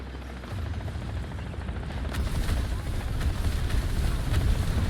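Helicopter in the War Thunder video game: a steady, heavy low rotor rumble with wind-like hiss that grows slightly louder over five seconds, with faint sharp game noises on top.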